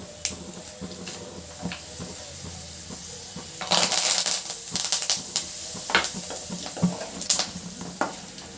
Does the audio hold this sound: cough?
no